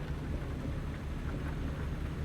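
Hard, steady rain in the trucking video game American Truck Simulator, a continuous dense roar with a low rumble, alone and without any talking.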